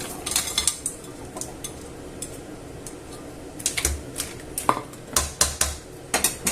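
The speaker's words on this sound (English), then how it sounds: "So once the pasta has been cooked to your own liking, we shall add the seafood in." Seafood being added to cooked spaghetti in a pot, with scattered clinks of utensils against metal and soft knocks, some quick clusters of taps between quieter pauses.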